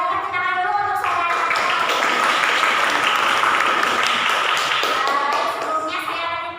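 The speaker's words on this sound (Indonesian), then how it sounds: "Mungkin boleh tepuk tangan dulu untuk saudara." A group claps for a presenter after a classroom presentation, a dense burst of hand claps that swells quickly and holds steady for several seconds before trailing off, loud and close, with voices mixed in.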